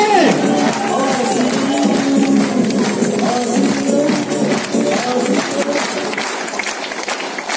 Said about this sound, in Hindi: इस महापुरुष महासंत के सम्मान में खड़े होकर के जोरदार तालियां दीजिए